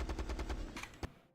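Automatic weapon fire from Halo Reach, a quick run of about seven evenly spaced loud shots, then a short pause and a single last crack before it falls silent.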